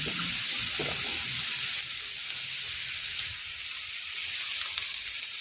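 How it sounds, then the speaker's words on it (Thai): Napa cabbage stir-fried with crispy pork in a pan, a close, steady sizzle with occasional stirring scrapes and clinks, no voices. "แล้วเราก็จะคนผัด ให้เข้ากันนะคะ ผัด ให้เข้ากันกับหมูกรอบ"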